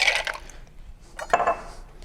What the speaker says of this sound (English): since my ice is small, I'm gonna stir this for just a little bit